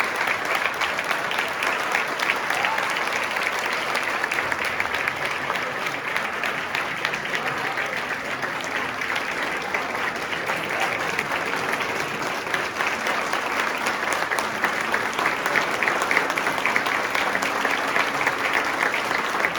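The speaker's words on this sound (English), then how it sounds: "audience did give a standing ovation" An audience gives a standing ovation after a santoor concert in California, with dense, steady applause sustained evenly for about twenty seconds and no pauses.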